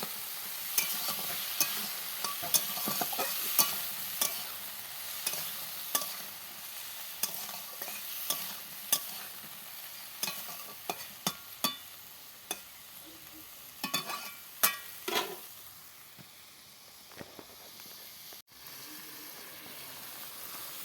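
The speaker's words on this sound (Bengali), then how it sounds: "এটা ঝিঙেটা ভাজছি" Ridge gourd slices sizzle steadily in a pan while being fried, with a constant hiss broken by frequent sharp scraping and clattering stir strokes, close and fairly loud, with no talking.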